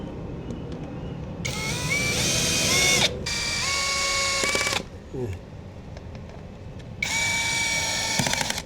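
Bursts of a whirring power tool start and stop several times, each a few seconds long, tightening bolts on a Honda Click 160 ABS scooter while fitting an air filter, over a steady mechanical background with faint ratcheting clicks between.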